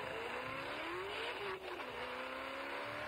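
Cars racing, with continuous engine drone and rising, falling whine as vehicles pass and accelerate, a brief dip midway, fairly distant and steady.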